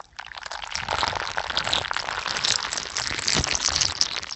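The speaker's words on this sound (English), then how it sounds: "Pouring milk on cereal sound effect." Milk poured onto a bowl of cereal, a continuous close splashing, crackling pour that holds steady for several seconds with no talking over it.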